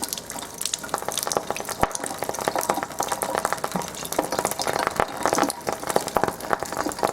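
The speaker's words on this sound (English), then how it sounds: "Do you hear that snap, crackle, pop?" Kangen H2 water heated over a lighter flame gives off irregular snapping, crackling pops, sharp scattered clicks over a soft hissing bed, fairly quiet and close.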